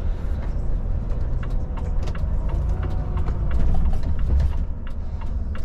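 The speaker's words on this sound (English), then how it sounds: "That gearbox, man." Mechanical clunks and ratcheting clicks come from a brand-new Volvo FH truck's gearbox as it shifts, scattered sharp knocks riding over a steady low engine and road rumble inside the cab.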